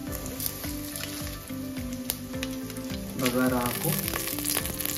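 Whole cloves, cardamom pods and cinnamon frying in hot oil for Hyderabadi mutton dum biryani, a steady close sizzle that swells louder partway through, with someone talking over it.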